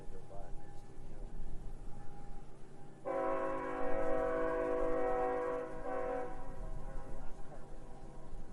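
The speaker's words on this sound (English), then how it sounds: "Train. 3 engines and 2 cars." A train with three engines and two cars passes. Its horn blares loudly for about three seconds over a steady rumble of wheels on rail, and people talk faintly in the background.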